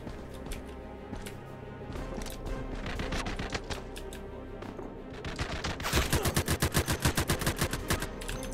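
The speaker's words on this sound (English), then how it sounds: "I'm sniping them, boss" Gunfire in E.T. Armies, scattered shots at first and then a fast, loud run of evenly spaced rapid shots toward the end, over a steady game background.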